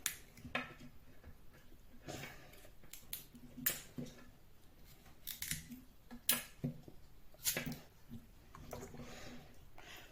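A sharp kitchen knife slicing potatoes and carrots into chunks, a string of crisp, quick cuts in uneven bursts with quiet gaps between them, close and fairly soft, with no speech.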